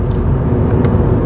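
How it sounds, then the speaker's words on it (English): A car coasting at about 55 mph on a winding stretch of the A6, letting its speed bleed off without braking. A steady, loud road rumble and engine whir fill the moment with no voices. "I'm not going to brake, I'm just letting the car naturally decelerate"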